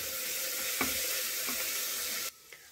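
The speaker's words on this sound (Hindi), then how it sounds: "अदरक लहसुन हमारा अच्छे से भुन गया है" Ginger and garlic frying in a pan, a steady close sizzle with a couple of soft stirring scrapes, dropping abruptly to a faint hiss near the end.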